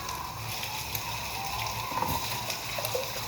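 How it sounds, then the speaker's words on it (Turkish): Running tap water splashes steadily over hands being washed in a home kitchen, a continuous moderate wash with small bursts of spatter and no talking. "Bir de elimi yıkayıp hemen geleyim"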